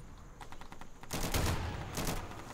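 Gunfire in the Insurgency video game: a quick string of lighter shots gives way to heavy, sustained automatic bursts, loud and close, with a second burst near the end.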